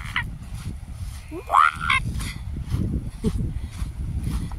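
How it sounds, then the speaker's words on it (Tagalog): A goose-like honking bird call rises clearly once amid faint chatter and background noise at Ha Pak Nai at sunset, with a few softer calls scattered before and after. "Yung ingay ng ibon."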